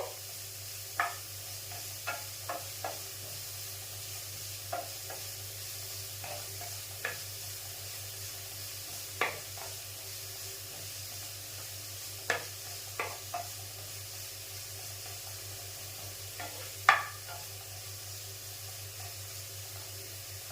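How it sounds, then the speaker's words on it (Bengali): Onions fry in a pan with a steady, soft sizzle while a utensil scrapes and taps against the pan at irregular intervals, close and moderately quiet, with no talking. "পেঁয়াজটা বেশ ভাজা হতে হতে"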